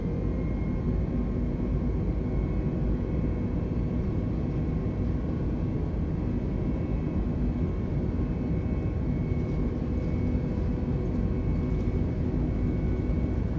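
Easyjet Airbus A320neo engines spool up to takeoff power in Microsoft Flight Simulator 2020, a steady, dense roar and rumble that holds evenly throughout with a faint whine above it.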